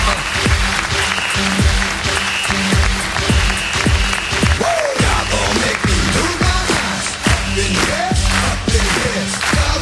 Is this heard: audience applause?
yes